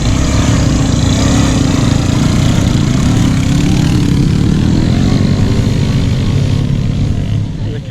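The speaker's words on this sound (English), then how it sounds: "There's a couple of boys doing Fraser on a couple of postie bikes, eh?" Several small postie-bike motorcycles ride past on sandy Fraser Island, their engines a loud, continuous buzzing drone up close that begins to fade at the end.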